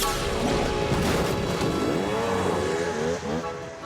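A cartoon jeep engine revs loudly and steadily, with a rising and falling whine as the vehicle drives off, filling the whole moment with no talking.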